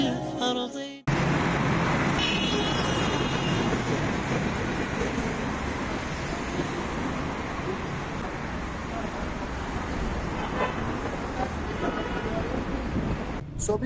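A car drives through city traffic in Islamabad, a loud, steady rumble of road and wind noise from inside the moving vehicle, with brief sharper sounds near the start and end.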